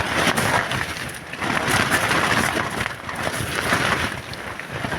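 Strong wind batters a tent at night, a loud, continuous gusting roar with flapping surges rising and falling close to the microphone.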